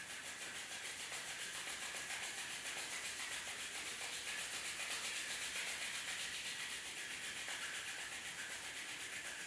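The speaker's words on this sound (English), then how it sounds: "Palming, rub your palms each other." Palms rubbing together steadily during a home yoga session, a continuous close, even swishing friction that holds for several seconds with no talking.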